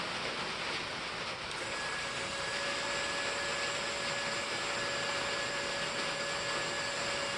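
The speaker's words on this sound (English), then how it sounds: "So we're gonna winch in" A small electric winch on a 1/8-scale Axial SCX10 RC crawler starts winding in partway through, a steady thin motor whine sitting over constant background hiss.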